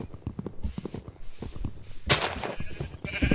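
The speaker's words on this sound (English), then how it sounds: "There's a sheep sitting through the leaves." Sheep bleating in a blocky survival video game, a couple of short game calls amid footstep-like clicks and brief bursts, fairly close and moderately loud with no talking.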